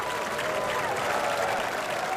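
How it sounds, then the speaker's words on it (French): Audience applause for dancers at a live dance performance, a steady, dense wash of clapping filling the whole moment with a faint crowd murmur and a thin whistle-like tone beneath. "Applaudissez-les bien fort!"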